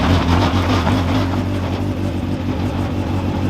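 A race car idles and pulls away onto a circuit, a loud, close engine rumble with a steady low throbbing that eases slightly as it moves off, no voices.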